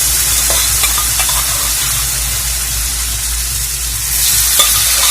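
Boiled raw banana and potato stirred in a hot pan, giving a steady close scraping and sizzling that runs the whole time with small clinks, no voices.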